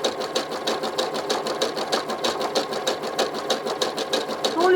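A CAYDO i1 Pro electric i-cord knitting machine runs continuously, producing a fast, even mechanical clatter with a regular rhythm, close and fairly loud, with no talk.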